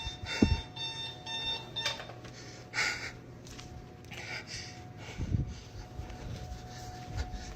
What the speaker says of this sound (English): now the alarm's going off